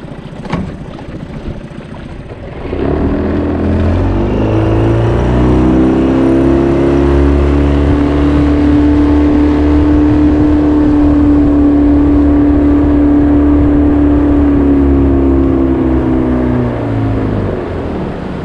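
Outboard boat engine runs steadily at speed on a quarter-mile ride across coastal water out to blue crab traps, a loud sustained drone that swells in after a short quieter start and holds close throughout.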